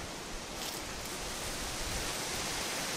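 Water hisses steadily from the shower head of a pressurised DIY solar shower built for a Volkswagen camper, a constant close spray with a slight rustling texture throughout.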